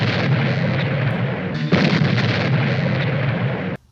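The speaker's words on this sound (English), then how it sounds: "This particular episode wins the award for weirdest looking explosion ever" An explosion from the 1960s TV series The Invaders: a loud, sustained rumbling roar with a brief swell partway through, lasting several seconds before cutting off abruptly.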